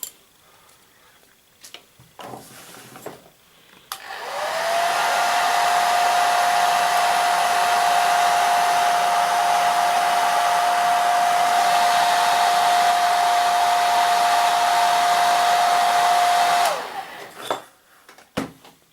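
Hair dryer blowing steadily on a freshly painted miniature figure, switched on with a rising whine, then a loud, even roar with a constant tone for about twelve seconds before cutting off, with faint handling clicks before and after.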